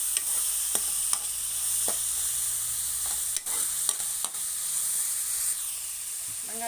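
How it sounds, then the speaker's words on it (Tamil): Onions sautéing and sizzling in a pan for egg drop kuzhambu, a continuous close hiss with occasional stirring scrapes and clicks. "வெங்காயம் நல்லா வதங்கட்டும்."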